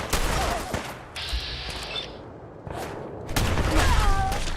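Rapid bursts of gunfire crackle from Gunner enemies in Fallout 4, volleys of shots coming in waves with brief lulls between them and a faint voice underneath.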